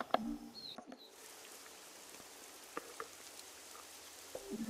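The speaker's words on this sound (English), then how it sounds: "Oh, it's raining." Rain falls in the video game Fall of Porcupine as a quiet, even patter, with a few sharper drips and taps scattered through it.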